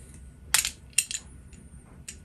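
A wire is stripped while fitting a remote stop/start switch to a Record Power CL4 lathe: a few sharp, close snips and clicks in quick clusters over a faint background hum, with no speech.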